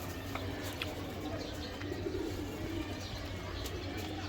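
Soft, low racing pigeon coos repeat under a steady background hum, with a few faint chirps scattered throughout.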